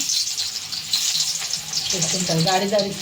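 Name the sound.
garlic frying in hot oil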